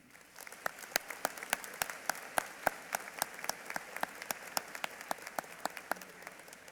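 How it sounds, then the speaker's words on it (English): At Greenwood High School's 2019 graduation, the audience applauds the class with a sharp, evenly paced run of claps, individual hand strikes standing out in a regular rhythm over a soft room background. "This class certainly deserves a big round of applause for this accomplishment."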